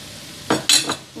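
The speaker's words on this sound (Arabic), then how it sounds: "فغادي نضيف عليهم هنايا عندي السوسيس اللي قطعتو على هذا الشكل" Sliced sausage tumbles into a pan of onions frying in oil, giving three short scraping, sizzling bursts of stirring close by, with a quiet gap before the first.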